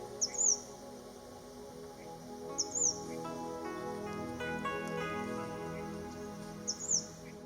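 Three short, high bird chirps sound at intervals over a quiet natural outdoor background, each one brief and fairly close.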